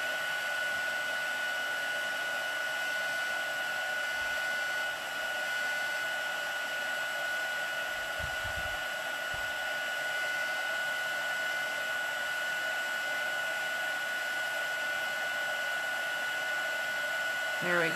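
A heat tool blows hot air to melt embossing powder on a stamped card, giving a steady, even whirring hiss that runs unbroken for the whole stretch with only a few faint low bumps.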